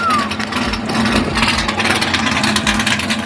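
An LS1 V8 engine swapped into an RX8 drift car idles while warming up to operating temperature, a loud steady low rumble with a faint hum throughout, close and continuous.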